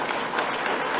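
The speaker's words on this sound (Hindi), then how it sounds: "ताली बजाइए एक बार जोर से" A crowd at a Hindi-language public speech claps loudly, a dense, continuous burst of applause filling the short moment.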